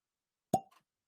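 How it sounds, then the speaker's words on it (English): A cork pulled from a whiskey bottle from the Nelson's Greenbrier distillery gives a single sharp, close pop followed by a brief faint rattle, alone in an otherwise silent moment. "So a little fresh cork pop."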